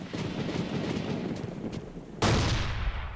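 A grenade detonates inside a Bren carrier in the World War II game Forgotten Hope 2, a sudden loud blast cutting in after a stretch of rumbling gunfire and battle noise.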